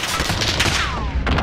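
Dense gunfire fills a war video game battle: overlapping rapid bursts and shots crackle loudly throughout, with a whistling streak passing overhead and sharper cracks near the end. No voices.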